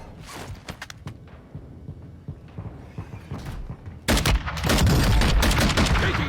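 Gunfire in the Warzone 2.0 Rebirth Island Vondel mode, scattered shots at first, then a dense, loud burst of rapid automatic fire near the end, with faint in-game voice chatter in the background.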